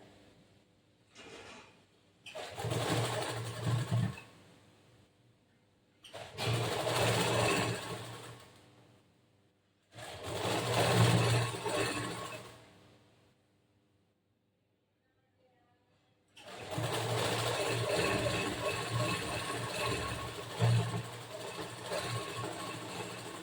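A sewing machine stitching along the edge of a boat neck blouse, running in four bursts of a few seconds each with a steady whirring hum, separated by short pauses, close and clear.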